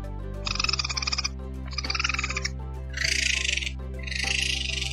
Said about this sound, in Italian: Il più comune è un suono acuto, un po' traballante, tra una nacchera stonata e un piccolo motore.